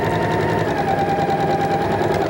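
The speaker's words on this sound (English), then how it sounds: "when we sew off, it comes right off the end of that squared off edge" A sewing machine stitches a quilt block seam, running steadily and loudly up close for the whole stretch with a continuous mechanical whir and no pauses.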